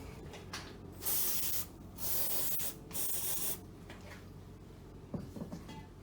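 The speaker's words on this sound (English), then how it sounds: "I'm using a little bit of WD-40 kind of stuff." Three bursts of WD-40 penetrating oil are sprayed at a 16 mm nut on the front driver-side wishbone control arm of a 2002 Chrysler PT Cruiser, each hiss loud and close, separated by short pauses, then a faint clunk.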